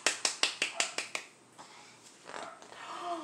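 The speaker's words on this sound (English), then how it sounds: "Let's clap together." Clapping during a children's story time: about seven sharp, evenly spaced claps in quick succession, then quieter scattered sounds and faint voices.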